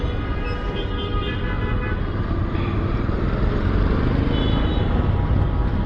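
Heavy road traffic in a jam hums and rumbles steadily with cars and motorcycles, a dense continuous engine drone with faint distant horn toots.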